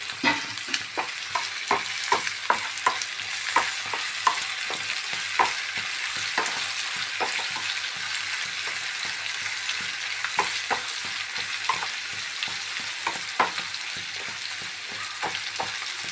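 Onions and green chillies sizzle with salt in a pan under a continuous hiss, while a utensil scrapes and taps against the pan in irregular, repeated strokes.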